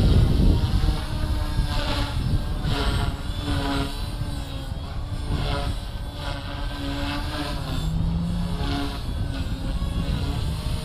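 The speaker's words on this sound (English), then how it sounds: "Performs 3D like a big heli. Flies faster than a big heli." A Gaui X2 RC helicopter flies outdoors, its rotor giving a loud continuous whine with pulsing rhythmic swells and shifting pitch as it passes, steady over wind noise, with no speech.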